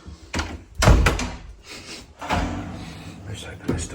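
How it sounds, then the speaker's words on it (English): A door is pulled open with a couple of heavy thunks and rattling clatter, close by, followed by softer shuffling movement. "Let's open this door, put me in there."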